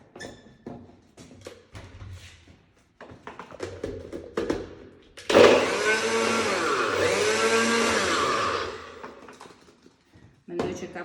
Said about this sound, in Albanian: E vendosim në blender.